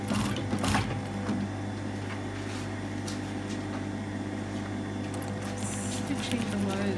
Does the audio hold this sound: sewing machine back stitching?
yes